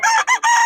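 A loud, close crow from a gamecock rings out in a single brief call, bright and strained, with no other sound around it.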